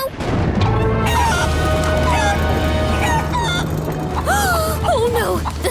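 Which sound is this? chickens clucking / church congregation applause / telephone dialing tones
chickens clucking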